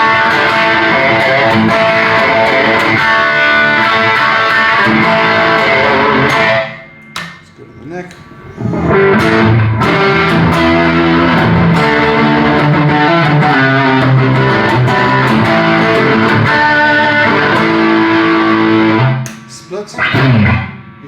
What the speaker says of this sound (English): proper single coil hum